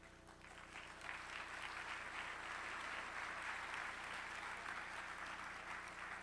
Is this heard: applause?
yes